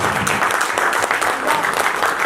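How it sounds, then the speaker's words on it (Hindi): An audience applauding a company owner at a business event, dense rapid clapping that fills the short stretch at a steady, loud level. "कि हमारे शिवम अग्रवाल सर के लिए दमदार के साथ ताली हो जाए।"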